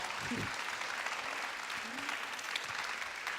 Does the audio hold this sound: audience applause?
yes